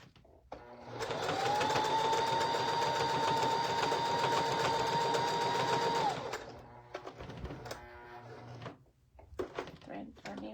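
A sewing machine stitches a quilt star applique onto a shirt, running steadily and loudly for about five seconds before stopping, followed by quieter handling sounds.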